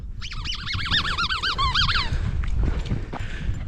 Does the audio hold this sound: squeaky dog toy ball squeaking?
yes